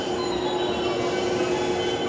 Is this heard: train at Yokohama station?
yes